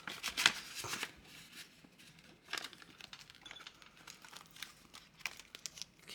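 Paper $2 bills are handled and tucked into savings envelopes, giving soft close crinkles and rustles in scattered bursts, with one sharper crisp flick near the start.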